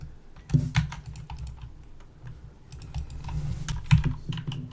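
A computer keyboard clicks close by in quick bursts of keystrokes as editor shortcuts are entered, with brief pauses between clusters.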